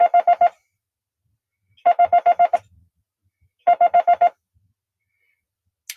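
Computer-keyed Morse code for the digit 5 used to adjust a semi-automatic bug key: three bursts of five even, rapid tone beeps separated by pauses, clean and alone.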